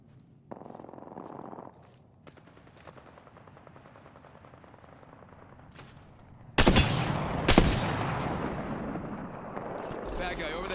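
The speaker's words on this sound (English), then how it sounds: "Stand back, knuckle cluster's firing." Knuckle Cluster weapon fire in a video game, with a faint rattle of distant gunfire, then a loud burst of blasts and crackling explosions that keeps rumbling to the end, while a voice talks over it.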